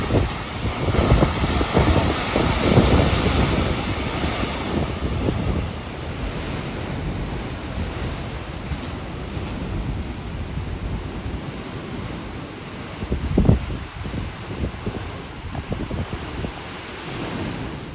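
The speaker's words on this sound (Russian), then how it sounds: "Вот только здесь чувствуешь силу и мощь океана." Ocean waves and surf breaking on the volcanic coast of Lanzarote in the Canary Islands, a steady loud roar with wind buffeting the microphone and a surge of crashing water near the end.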